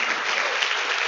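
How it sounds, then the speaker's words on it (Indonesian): An audience at a talk on dreams and attitude claps together, a dense, even burst of applause lasting about a second, close and fairly loud. "Tepuk tangan luar biasa"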